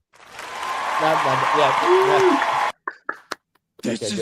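An applause sound effect played from a podcast soundboard, a short burst of canned clapping with a voice talking over it, cut off abruptly and followed by choppy talk.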